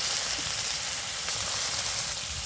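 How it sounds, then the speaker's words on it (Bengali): Fish oil fries in a pan with dried red chillies, five-spice seeds, bay leaves, peanuts and onion for a red amaranth chachchari, giving a steady, even hiss of sizzling that runs close and unbroken throughout. "এবার দিয়ে দিচ্ছি মাছের তেলটা।"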